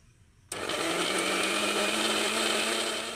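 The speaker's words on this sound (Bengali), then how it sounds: "কাঁঠালটাকে এবার আমি মিক্সিতে ব্লেন্ড করে নেব" A kitchen mixer grinder starts abruptly and whirs loudly and steadily, blending jackfruit pulp into a paste.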